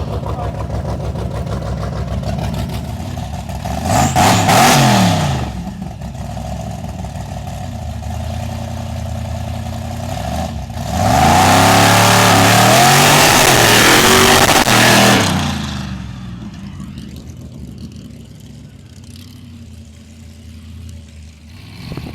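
A supercharged big block Chevy mud truck idles with a deep lumpy rumble, then roars through two hard revving launches, the longer one loud and sustained for several seconds before dropping back to idle.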